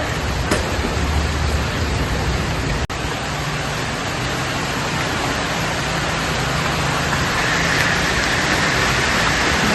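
Steady rain falling on plants and surfaces outdoors, a dense, even hiss that continues throughout, loud and close, with no voices.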